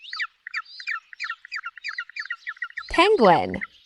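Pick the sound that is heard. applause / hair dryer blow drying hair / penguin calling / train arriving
penguin calling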